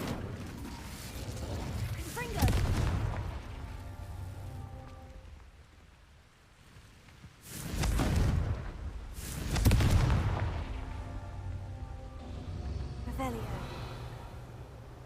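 In Hogwarts Legacy, an Incendio fire spell is cast, giving bursts of whooshing, crackling flame that swell and fade several times over steady background game ambience.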